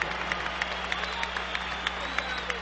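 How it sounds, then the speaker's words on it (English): Arena crowd at a heavyweight boxing bout in Atlantic City applauding and cheering, a steady wash of clapping with scattered sharper claps and a hum underneath. "Let's have a round of applause for these two heavyweights."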